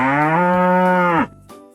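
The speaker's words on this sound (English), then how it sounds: "The cow says moo." A single long, loud cow moo sustained for over a second, close and clear, then cutting off into near silence on a farm.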